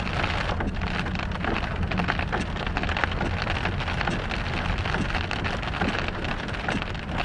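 Steady rain patters densely on a surface, a constant hiss of drops that stays even and fairly loud throughout with no voices.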